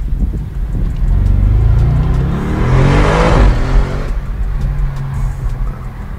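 Audi RS6 Avant estate engine revving hard, a loud close roar that climbs in pitch toward the middle and then settles back, with no talking.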